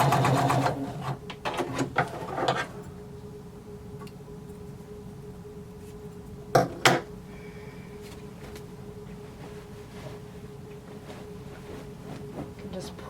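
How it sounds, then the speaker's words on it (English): A sewing machine joins overlapped elastic ends for a jumpsuit in a few short, close bursts of stitching, mostly near the start and again briefly midway, with quiet pauses between. "And you're going to sew them together."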